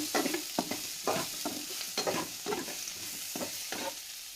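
A spoon stirs salted paste for a drumstick curry in a pan, scraping in a rhythmic run of close strokes over a light sizzle.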